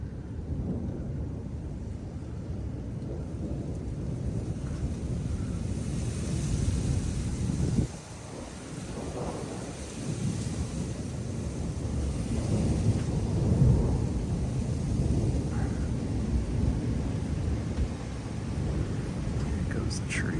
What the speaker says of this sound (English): Now you can feel it, lightning surrounding me.